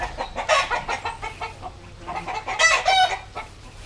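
Chickens and roosters, including German roosters and an Australorp hen, cluck and squawk in a busy, overlapping flock fuss, with louder bursts near the start and around the middle, close by with no talk.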